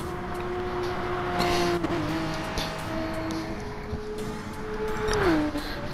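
A red Porsche race car in Gran Turismo on the Interlagos circuit drones at steady engine pitch, the revs shifting as it races past with other cars, engine sound continuous and fairly close throughout.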